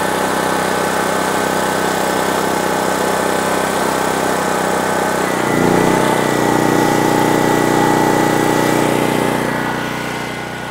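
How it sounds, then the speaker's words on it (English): A generator runs under load while powering a well pump, its loud, constant engine drone shifting lower and rougher about halfway through before easing slightly at the end. "it sounds like the generator's pulled down as if it's, you know, running power to the pump"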